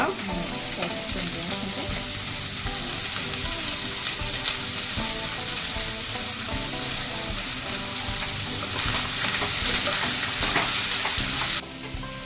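Onions sizzle and fry steadily in a pan while tomato chutney is being made, a dense continuous crackle close by that runs without any talk and cuts off abruptly near the end.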